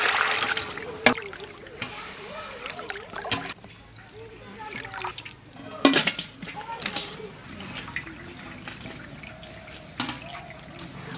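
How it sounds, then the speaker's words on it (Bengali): Hilsa fish being washed by hand in water, with irregular splashes, sloshing and dribbling close by, alternating with quieter moments. "মাছটাকে আমরা ভালো করে ধুয়ে নেব।"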